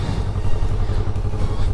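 A Kawasaki Ninja motorcycle engine idles nearby with a steady low rumble, running alone and unchanged throughout the short stretch.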